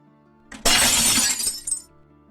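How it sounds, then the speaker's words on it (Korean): A living-room glass window shatters in one sudden, loud crash, a bright spray of breaking glass that lasts about a second, followed by a short rattle of falling shards before quiet returns. "거실 유리창 깨지는 소리가 울려 퍼졌고"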